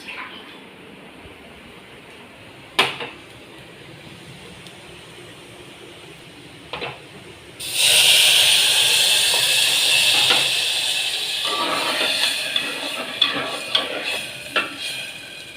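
Water poured into a pan of roasted wheat rava for payasam bursts into a loud, steady hiss and bubbling boil after a quiet start with a few clanks, with occasional stirring knocks.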